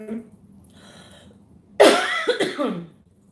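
A single loud, harsh cough bursts out after a quiet stretch, followed by a couple of rougher hacking breaths, close to the microphone.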